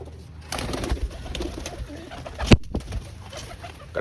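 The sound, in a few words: pigeons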